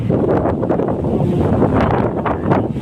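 Strong wind buffets the microphone in loud, continuous rumbling gusts, with no voices.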